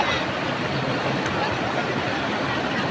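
Steady rushing of the Palakol River's current in Floridablanca, a continuous even wash of noise with no voices.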